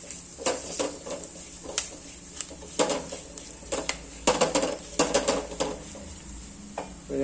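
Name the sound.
stirring meat masala in a pan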